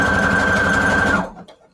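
Sewing machine running steadily for over a second at close range, stitching small photo embellishments for a junk journal, then stopping abruptly and leaving near silence.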